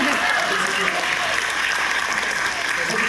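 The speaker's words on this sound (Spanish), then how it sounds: "Y yo, vamos a aplaudir." A congregation at a Catholic sermon breaks into dense, continuous applause, many hands clapping loudly and evenly for several seconds with faint voices mixed underneath.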